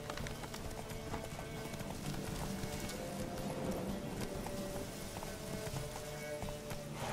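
Roach the horse gallops in The Witcher 3, with a dense, continuous rhythmic clatter of hooves at an even pace, close and steady, mixed into a busy game soundscape with no talking.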